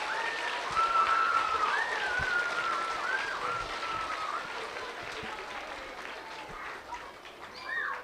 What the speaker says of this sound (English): if we could give one more round of applause to all of our distinguished guests